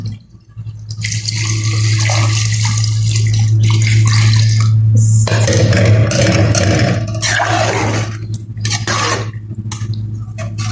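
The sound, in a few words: water being added to fish and eggplant curry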